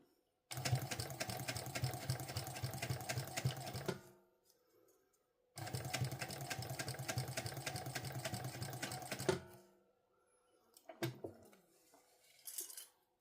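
A sewing machine stitching the lining of a sling pouch runs close up in two steady buzzing bursts of about three and four seconds, separated by a pause, then a few faint clicks and handling sounds.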